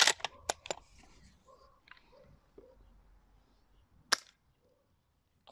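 Sharp, loud gas-powered shots from a wooden Dboys Kar98K airsoft bolt-action rifle running on propane: a tight burst of cracks at the start, then one more crisp report a few seconds later, with quiet handling in between.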